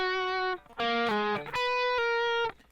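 A short guitar riff of sustained, sliding notes, played clearly and fairly loud in three phrases with distortion-like tone and no talking.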